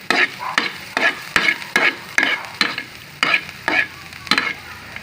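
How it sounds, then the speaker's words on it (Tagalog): Garlic fries in butter in a pan, a loud, close sizzle broken by regular scraping stirs about every half second. "Yan guys, pwede na ilagay. Yan guys, bawang."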